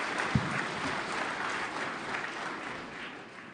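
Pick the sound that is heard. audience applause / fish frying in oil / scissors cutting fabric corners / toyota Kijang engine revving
audience applause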